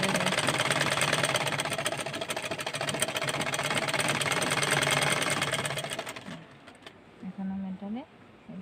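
A sewing machine stitches a baby skirt in a fast, steady whirring run that stops abruptly, followed by a voice speaking.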